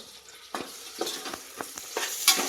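Onions and tomato frying in a pressure cooker while being stirred, with a soft background sizzle broken by repeated scraping strokes of a spoon about twice a second, close and moderately loud.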